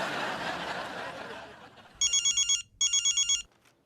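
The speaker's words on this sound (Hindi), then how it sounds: "दमाद जी का फोन है" A telephone rings in two bursts of rapid electronic trills after a stretch of muffled background noise, loud and close.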